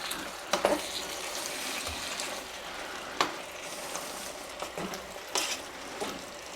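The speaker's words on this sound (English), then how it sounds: "So we're just stirring that into the mix." Blanched broccoli stirred into a chicken pasta salad, a few soft scraping clacks of a utensil against the bowl spaced across the moment, with light moist rustling between them and no voices.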